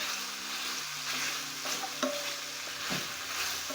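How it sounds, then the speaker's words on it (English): A spoon stirs Royco stock cubes into meat in a cooking pot, making steady scraping and shuffling strokes over a continuous soft sizzle, with a few sharper knocks against the pot. "So you stir in the Royco cubes"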